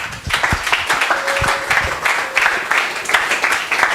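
Church congregation applauding, a dense sustained round of clapping from many hands filling the room throughout.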